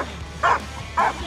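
Two quick, loud barks from a hog hunting dog in Georgia, about half a second apart, close by over a low steady background.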